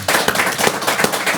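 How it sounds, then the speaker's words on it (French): Audience applause, dense and close, a loud continuous patter of many clapping hands filling the whole short stretch. "Applaudissements du public."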